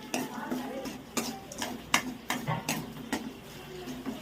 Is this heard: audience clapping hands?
no